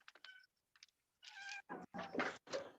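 Several short high-pitched kitten meows in quick succession, close by, with brief gaps of silence between them.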